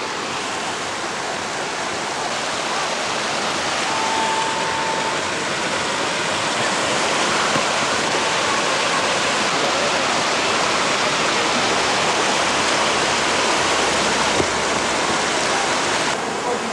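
A brook flows steadily beside a Czech countryside cottage near Boskovice, a continuous broadband rush of water that stays loud and even throughout, with no voices over it.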